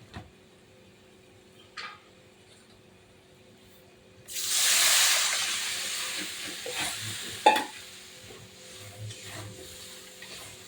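Water hits a hot pan of black carp fish curry. After a quiet start with a couple of small clinks, a sudden loud hiss bursts up and then slowly fades. A sharp knock follows, and the bubbling settles low.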